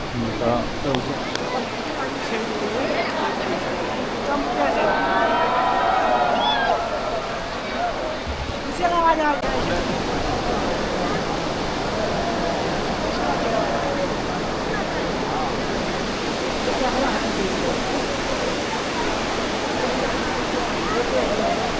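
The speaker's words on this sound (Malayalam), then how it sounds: "നമ്മ വന്ന് വെള്ളച്ചാട്ടമൊക്കെ കാണുമ്പോൾ നല്ല പൊരിഞ്ഞ മഴ" The Athirappilly waterfall roars steadily in the monsoon under heavy rain, a broad continuous rush with a crowd nearby; people talk over it throughout.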